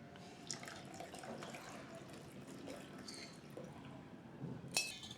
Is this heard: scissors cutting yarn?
no